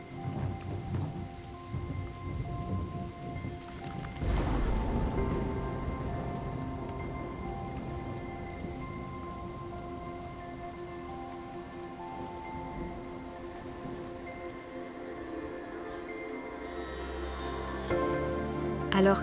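Heavy tropical downpour on open savanna, a steady dense roar of rain with a deep rumble of thunder rolling in early on, continuous and without voices.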